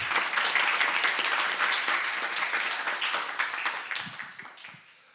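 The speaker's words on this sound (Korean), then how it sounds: "역시 큰 박수 부탁드릴게요." Audience applause at a Korean community mentoring event held in a church in Quito, Ecuador: many hands clapping in a dense, steady wash that gradually thins and fades out toward the end.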